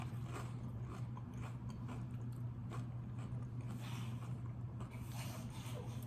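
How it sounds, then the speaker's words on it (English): Someone bites into a crispy Dairy Queen onion ring, giving a few soft crunching bites and chewing close up over a steady low hum of indoor background noise. "I love when you can bite into an onion ring and not pull the onion all the way out."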